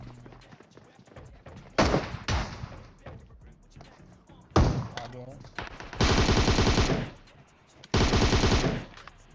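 Bursts of automatic M762 rifle fire in a video game, with short stutters early, then two long sustained volleys, loud and close, with faint game sounds between them and no talk.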